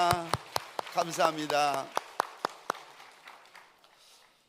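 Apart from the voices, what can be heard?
congregation applauding in church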